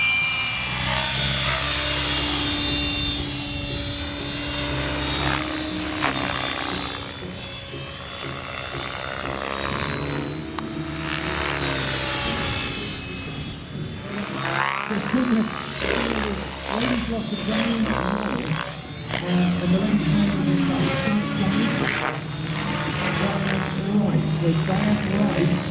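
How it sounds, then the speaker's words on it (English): A Trex 700 radio-controlled helicopter flies 3D aerobatics over a park, its rotor and motor whine rising and falling continuously through the whole stretch, with a commentator talking over it. "This is Owen Cochrane flying the helicopter aboard the Western Park for the Trex 700 Pro DSC."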